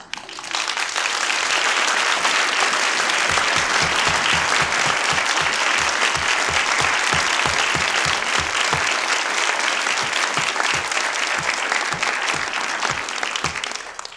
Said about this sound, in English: Dennis, it's you they're applauding for